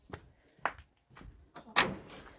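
A door opens in a home in the Sumy region, with several soft knocks and clicks followed by a louder creak and rattle near the end, heard close and alone.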